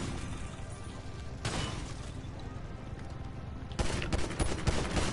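Two loud bursts of rapid automatic gunfire from Grand Theft Auto, each a dense, sustained rattle lasting a second or more, separated by a stretch of quieter background noise, with no talking.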